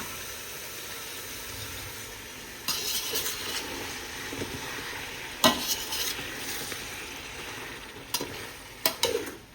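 Coriander powder being stirred into chicken pulav in a hot pan, a steady low sizzle with occasional sharp scrapes and knocks of the spoon against the pot, close and moderate.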